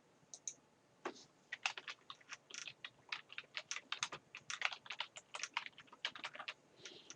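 Close, quiet keystrokes on a computer keyboard come in irregular bursts of quick clicks, with short pauses between words and no talking.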